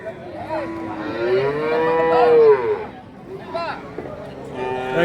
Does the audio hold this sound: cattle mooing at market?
yes